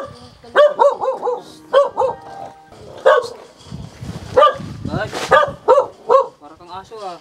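A dog barks repeatedly in quick, yappy bursts close by, with short pauses and some whining in between, while people talk in the background.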